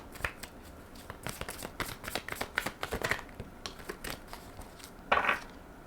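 Tarot cards being shuffled by hand during a reading, a steady run of quick, close papery riffles and slaps with a brief louder flurry near the end.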